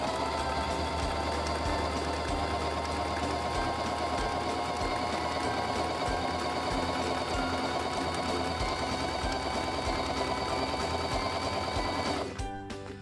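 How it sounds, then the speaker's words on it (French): A Singer 3232 sewing machine sews a buttonhole with its buttonhole foot, a continuous loud rapid whirring stitch rhythm that stops abruptly near the end. "abaissez le pied à boutonnière et appuyez sur le rhéostat pour"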